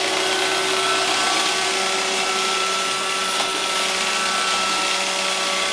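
An iRobot Roomba robot vacuum cleaner runs with a steady, continuous motor whir and brush hiss at close range, holding an even level throughout with no talking.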